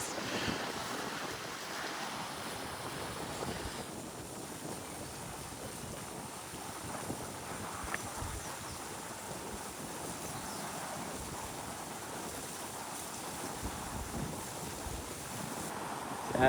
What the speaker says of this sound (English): Yeah, it's super windy,